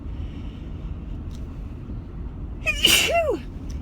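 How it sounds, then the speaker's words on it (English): A single loud sneeze bursts out near the end, following a few quiet seconds of low background hum. "I'm gonna sneeze."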